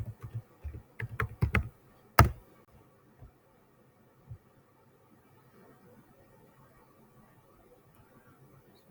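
A password is typed on a computer keyboard in a short burst of sharp key clicks, then one louder tap and a few sparse presses before the room goes quiet.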